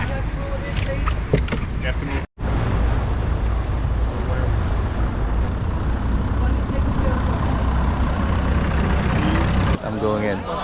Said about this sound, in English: we're back on the boat again